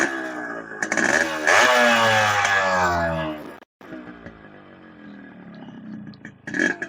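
Yamaha RX100 two-stroke motorcycle engine running loud and close, with sharp throttle blips that rise and fall, then settling into a rougher, quieter idle after a brief cut, with a blip at the end.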